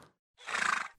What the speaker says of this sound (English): Use my horse noise?